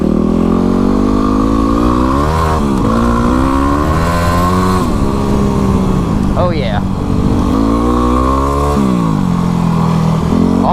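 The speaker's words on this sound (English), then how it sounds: "You can really hear it rip when you get up top." Kawasaki KLX300 dual sport motorcycle revving hard on a track, its engine note climbing and dropping repeatedly through upshifts, loud and close throughout; someone speaks briefly over it.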